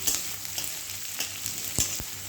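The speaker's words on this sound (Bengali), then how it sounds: "সব ভাজা ভাজা হোক, একটু নাড়াচাড়া করে দেবো।" Onions and spices fry in a pan, producing a steady close sizzle with a few soft scrapes and knocks of a spoon stirring, and no voices.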